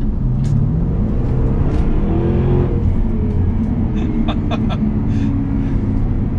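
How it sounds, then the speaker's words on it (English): A 542-horsepower Jaguar XKR-S engine rumbles loudly and steadily nearby, with a deep throaty growl and brief rising revs. "But dominating absolutely everything is the engine. Just give this a listen."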